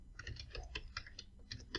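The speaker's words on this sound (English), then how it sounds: "my typing is not so good today" Rapid, irregular keystrokes on a computer keyboard, close and fairly quiet, clicking in quick bursts with short pauses and no talking.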